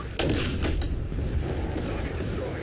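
A Sherman Firefly tank cannon fires in War Thunder, a sudden loud blast followed by a heavy rumbling tail, with a second sharp report moments later over ongoing battle noise.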